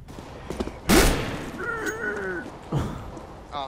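Auto sniper rifle fire in Counter-Strike, a sharp loud shot followed by a second fainter report, with game ambience around it.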